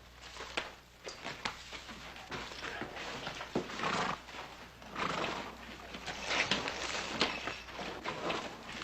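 A horse whinnies while hooves clip-clop irregularly on hard ground, fairly faint and mixed with scuffing footsteps in an outdoor western town street.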